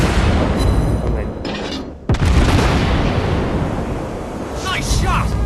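A naval gun fires in World of Warships Blitz, one heavy boom with a sharp crack partway through amid continuous loud battle noise, with voices talking over it.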